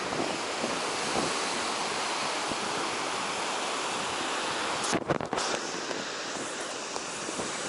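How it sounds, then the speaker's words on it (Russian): Strong wind roars continuously by a stormy sea where surfers ride the waves, blending with heavy surf into a dense, loud wash that gusts sharply near the middle and carries on without talk. "Надеюсь, ветер вам не сильно мешает смотреть на серфингистов"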